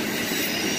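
CSX freight train led by two SD40-3 locomotives rolling eastbound past, a steady broad rumble and rail rush with faint wheel squeal, close and continuous.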